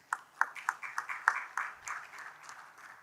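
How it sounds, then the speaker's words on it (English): Sparse, fairly quiet clapping from a conference audience for panel members at a plastic pipes business session, sharp individual claps at first settling into a soft patter that fades out. "Can I hear a round of applause for them"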